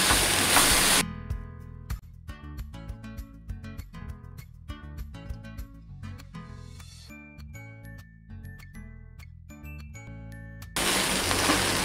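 Soaked poha is stirred with masala in a pan, heard as a quick run of metallic spoon clinks and scrapes, with a hissing sizzle at the start and end.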